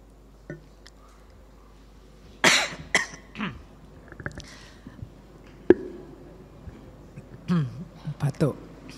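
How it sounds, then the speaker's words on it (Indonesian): A cough bursts out a few times during a spoken Indonesian lecture on existentialism, with sharp close bursts separated by quieter breaths and a steady room hum. "Batuk."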